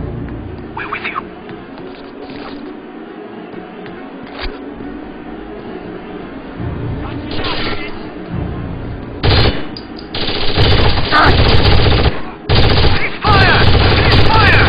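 Gunfire in the video game Rainbow Six Vegas, with bursts of rapid automatic shots that build into dense, loud volleys toward the end, mixed with game voices.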